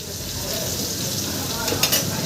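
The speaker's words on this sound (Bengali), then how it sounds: "সবজিগুলো ভেজে নিচ্ছি পেঁপে প্রায় আমার ভাজা হয়ে এসছে" Papaya pieces fry in hot oil for a vegetable dish, with a dense, continuous sizzle and a brief stirring clatter near the end.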